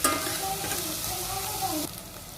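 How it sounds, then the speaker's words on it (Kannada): Curry leaves tempering in hot oil for a Malnad-style mango sambar crackle with a dense steady sizzle, close and fairly loud, easing slightly toward the end with no talking. "ಈಗ ಕರಿಬೇವಿನ ಸೊಪ್ಪು ಹಾಕ್ತೀನಿ. ಅದ್ರ ಜೊತೆಗೆ ಕರಿಬೇವಿನ ಸೊಪ್ಪನ್ನ ಹಾಕಿಬಿಟ್ರೆ ಚೆನ್ನಾಗಿ ಒಗ್ಗರಣೆ ಬೇಯಿಕೊಡುತ್ತೆ."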